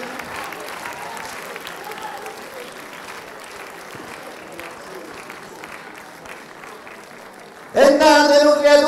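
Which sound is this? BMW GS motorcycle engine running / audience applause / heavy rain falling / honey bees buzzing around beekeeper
audience applause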